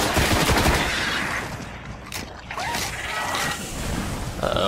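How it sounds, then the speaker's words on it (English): Loud, dense gunfire from the Destiny video game on PS4, with rapid bursts and overlapping shots coming from several directions, dipping briefly midway before the barrage resumes at full intensity. "I'm getting shot from all directions."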